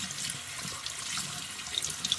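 Warm tap water runs over jewelry being rinsed in a sink after ultrasonic cleaning, a steady close splashing hiss with small bright droplet sounds near the end, no talking.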